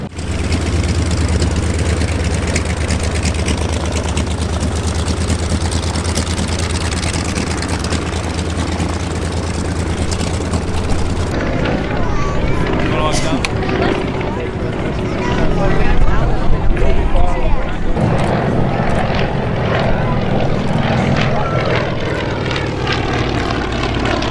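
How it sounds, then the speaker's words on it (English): A North American P-51 Mustang propeller fighter at a warbird gathering in Waukesha, Wisconsin, its piston engine droning loud and steady throughout, with voices talking over parts of it. "this is North America P-51 Mustang. It was a European-based fighter plane"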